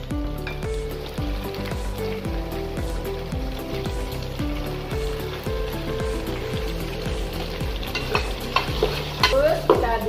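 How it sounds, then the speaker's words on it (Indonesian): Spices being stirred in a pot for a Padang-style chicken, potato and carrot soup, with a steady rhythmic scraping of the spoon over a continuous sizzle, close, growing busier toward the end, with no talking. "Terus kita aduk."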